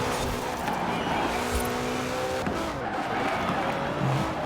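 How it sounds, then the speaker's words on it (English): Car in Forza Horizon 4 sliding through turns, a steady engine roar with tyre noise running loud and continuous throughout, a voice talking over it at times. "This thing definitely just wants to slide around the turns right now."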